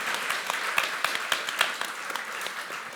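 An audience at an evening panel event applauding performers and speakers, a steady mid-sized burst of clapping with crisp individual claps standing out, no talking over it.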